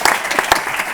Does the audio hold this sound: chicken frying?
no